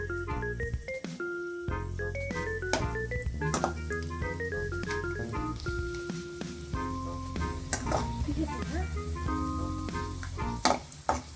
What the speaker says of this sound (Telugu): నెయ్యి జీడిపప్పు వేయాలి